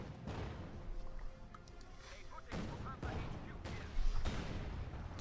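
A T-70 light tank in Company of Heroes 2 firing on infantry, several heavy blasts landing in a steady rhythm with battle noise between them, while a commentator talks quietly over it.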